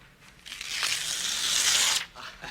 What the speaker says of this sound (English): Rip out the entire page.